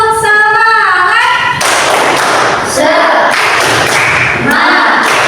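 A classroom of students led by their teacher chants in unison and then claps in a quick rhythmic pattern, loud and close, with sharp hand claps and thumps mixed with the group's voices.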